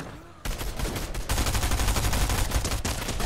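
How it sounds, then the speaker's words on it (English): A charge SMG firing in Fortnite, heard as a loud, rapid, continuous stream of shots that starts abruptly and grows heavier partway through, with no talk over it. "this charge SMG is so whack."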